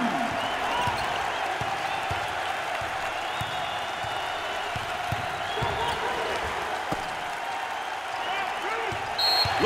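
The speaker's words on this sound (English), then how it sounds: "Listen to that reaction by the crowd." A basketball arena crowd at an NCAA college game, Penn at Houston, keeps up a sustained roar of applause and cheering with a few ball bounces and sneaker squeaks, while an announcer talks over it.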